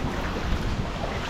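Strong typhoon wind during Typhoon Uwan amid rising floodwater, a brief, dense rush of gusting noise buffeting the microphone with no pause.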